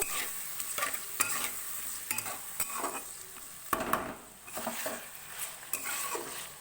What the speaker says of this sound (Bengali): এটা সামান্য একটু জল দিয়ে দিলাম, দিয়ে মশলাটাকে একটু কষিয়ে নেব।